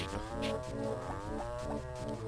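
Cartoon cows moo in the Harvest Moon farming video game, a quiet, drawn-out series of lowing calls that rise and fall without pause, with no talking.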